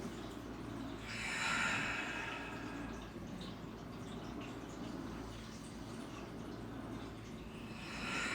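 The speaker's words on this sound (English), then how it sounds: "Big, huge inhales, big, audible exhales out your mouth." Deep breaths during a restorative core workout, with audible mouth exhales swelling around the second and again near the end over a steady low background hum, fairly faint and with no talking.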